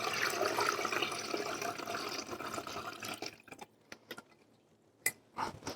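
Turkey broth pours through a strainer into gravy in a steady rushing splash that thins out, then trickles and drips in a few sharp, scattered spatters.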